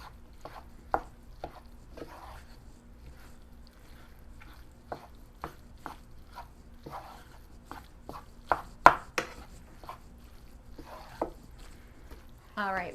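Sausage stuffing for butternut squash is mixed by hand in a bowl, a string of soft irregular knocks and scrapes over a quiet background, some louder clacks near the end.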